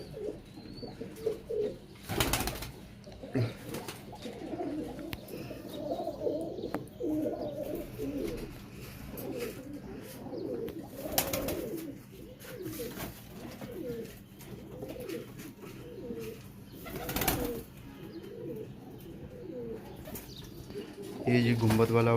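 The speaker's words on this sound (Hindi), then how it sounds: "ये कबूतर मेरा बहुत ही फेवरेट कबूतर है" Several pigeons coo repeatedly in soft, rolling calls at a pigeon-keeping loft, with occasional louder bursts and someone talking in the background.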